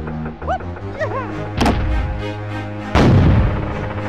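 Two loud cannon blasts fire from a boat in Donkey Kong 64's Gloomy Galleon level, about a second and a half apart, over bouncy game music with springy sliding tones.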